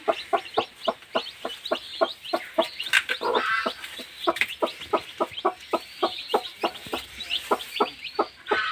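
A hen beside hatching chicks clucks in a steady, rhythmic series of short, close calls, roughly two or three per second, with a brief squawk and faint peeping in between.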